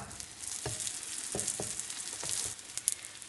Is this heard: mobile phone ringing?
no